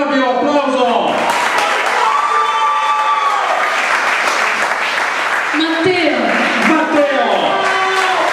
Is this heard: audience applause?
yes